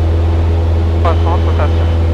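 A Cessna 150 light aircraft engine running at full throttle during the takeoff roll gives a loud, steady low drone. A voice speaks briefly over it partway through.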